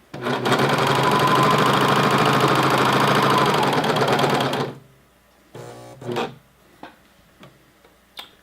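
A sewing machine stitches elastic onto a waistband in one loud, continuous run of about four seconds, then stops abruptly, followed by a few faint clicks and handling sounds.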